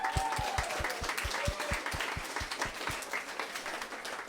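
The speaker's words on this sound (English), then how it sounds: "Another round of applause, guys." Applause from an audience after a talk by a galaxy expert, heard as a single person's slow, regular claps, about a dozen evenly spaced, moderately near, trailing off under a faint background hum.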